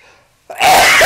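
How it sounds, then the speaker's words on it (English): A single loud, close sneeze bursts out after a brief near-silent lead-in, sharp and breathy, filling the second half of the clip. "I'm going to sneeze."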